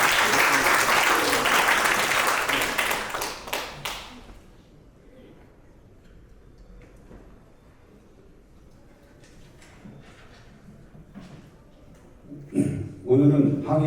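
Loud applause greets a speaker at a commemoration ceremony for the 104th anniversary of the Battle of Fengwudong, dying out after about four seconds into a quiet room, with some shuffling and brief clapping returning near the end.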